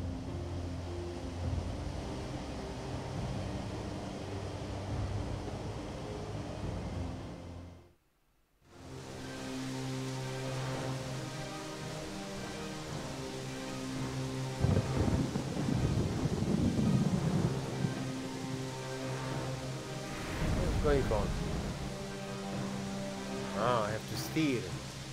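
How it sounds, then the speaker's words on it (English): Continuous hiss of falling rain in the video game Storm Boy, broken by a brief silent gap, with faint voices and other background sounds over the steady patter. "It's raining."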